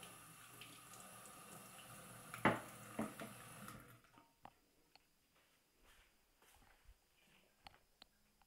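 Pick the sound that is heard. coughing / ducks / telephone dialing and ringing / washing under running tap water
washing under running tap water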